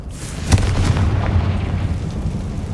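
A blast spell explosion in the video game Hogwarts Legacy, set in a mine, gives one sharp burst followed by a low rumbling tail that stays loud for a few seconds.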